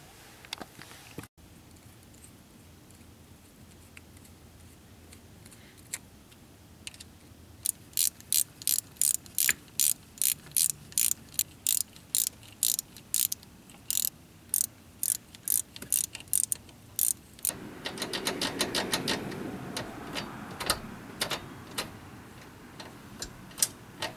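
Hand-tightening the original OEM bolts holding down the rebuilt shifter of a 1985 Toyota Celica GT-S RA65, heard as rapid close ratchet clicks in quick bursts with short pauses, plus a denser rattle of tool handling near the end.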